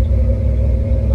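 A 1950 Chevy 3100 patina hot rod shop truck with a 383 stroker V8 idles in a deep, loud, steady rumble with a lumpy low throb, heard close with no talking.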